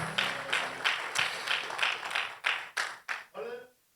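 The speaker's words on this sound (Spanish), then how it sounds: "recibimos con un fuerte aplauso a quienes se van a ir conectando a través de SLN Live" A church congregation claps together in a steady, even rhythm of loud close beats, about three per second, with a voice heard as the clapping stops.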